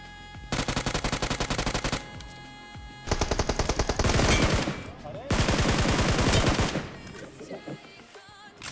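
Bursts of rapid automatic gunfire in a shooting video game, three long sustained volleys separated by short pauses, loud and close.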